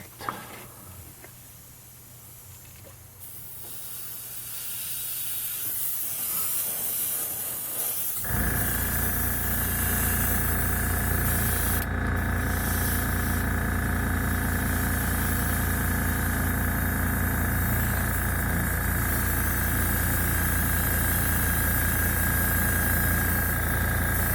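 Airbrush spraying paint onto the body of a 1965 Dodge Coronet, a steady close hiss that starts faint, then jumps to a loud continuous spray from about a third of the way in and holds to the end.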